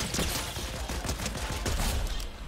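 Rapid pistol gunfire in Fortnite, a dense volley of close shots in quick succession with no talking.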